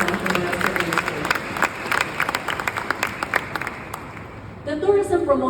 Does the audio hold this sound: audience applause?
yes